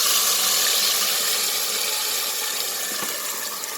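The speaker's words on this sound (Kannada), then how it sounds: "ಈಗ ನಾನು ಪೇಸ್ಟ್ ಮಾಡ್ಕೊಂಡಿದ್ದು ಗರಂ ಮಸಾಲೆ ಕಂಪ್ಲೀಟ್ ಇದರಲ್ಲಿ ಹಾಕ್ತಿದ್ದೀನಿ." Ground garam masala paste lands in two tablespoons of hot oil for an avarekaalu and cauliflower gravy, raising a loud, close, hissing sizzle that slowly eases off, with no speech.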